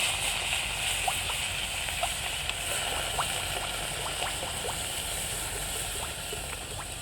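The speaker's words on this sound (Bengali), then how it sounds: "এবার আমি সুজিতে জল দিয়ে দেব।" Water pours into semolina in a steady, close trickling stream with small gurgles and sloshes, a continuous wash of liquid sound without any talking.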